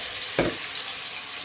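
Shrimp coated with turmeric and chili fry in hot oil, a continuous hissing sizzle with one brief louder splutter near the start, no talk.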